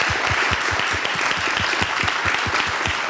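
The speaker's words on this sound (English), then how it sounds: "please, an applause for them" An audience at a hackathon awards ceremony applauds steadily, with individual claps standing out close by in a continuous wash of clapping.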